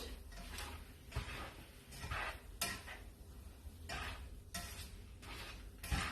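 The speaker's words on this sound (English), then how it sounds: "I put the curry in, and I'm going to mix it around" Green curry paste being stirred around a pan over low heat for green curry chicken, with a run of scraping, clinking utensil strokes against the pan at an irregular rhythm, close and moderately loud.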